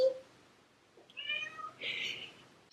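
A black cat gives two short, faint meows in a quiet indoor room, spaced about a second apart.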